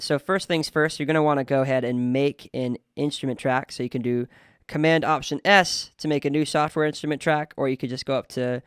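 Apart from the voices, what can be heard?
None of the usual background noises is heard.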